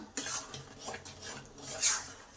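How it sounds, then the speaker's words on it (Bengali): Papaya kheer sandesh is stirred steadily in a pan, giving close, soft repeated scrapes and light metallic clinks of a utensil against the pan in a quick irregular rhythm. "কন্টিনিউ নেড়ে যেতে হবে নাড়া বন্ধ করা চলবে না"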